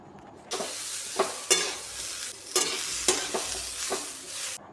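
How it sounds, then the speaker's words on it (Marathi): Chopped tomatoes are stir-fried with masala in a pan, giving a loud, steady sizzle. Repeated scraping strokes of the spoon break through it at a slow, even pace, and no one speaks. "हे टोमॅटो आपल्याला एक ते दोन मिनटं चांगलं असं आपल्याला परतून घ्यायचं आहे"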